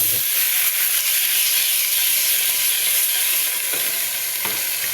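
Rice stirred and fried in ghee for ghee rice, a steady broadband sizzle with occasional scraping stir strokes, close and continuous throughout with no talk.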